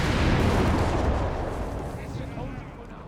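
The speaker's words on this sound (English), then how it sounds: "More Grant fire there." Grant tank gunfire in the Company of Heroes 3 war game: heavy booming cannon blasts that blur into a dense, rumbling wash of battle noise, loud at first and slowly easing off.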